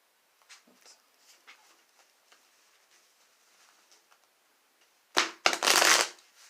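Soft scattered tarot card flicks, then a quick, loud riffle shuffle of the tarot deck up close near the end.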